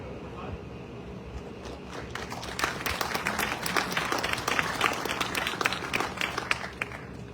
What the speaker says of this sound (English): If you could stand up for a round of applause.